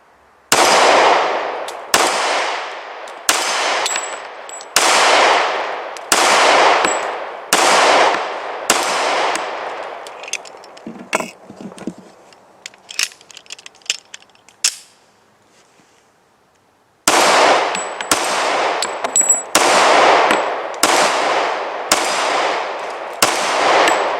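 Kimber Ultra Carry II pistol fired outdoors: a string of loud, sharp single shots at a steady pace, then a quieter stretch of clinks and handling, then another run of evenly spaced shots.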